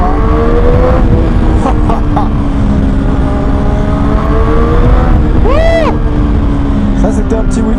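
Triumph Street Triple 765 RS 2021 roadster engine revving hard during a short wheelie, a loud continuous drone with rising pitch sweeps, heard close under wind rush and a speaking voice.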